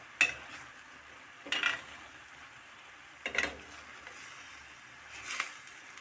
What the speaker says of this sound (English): Then mix it properly.